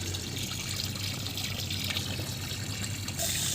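Water flows steadily while irrigating corn plants, a constant low rushing and trickling with no break over the few seconds.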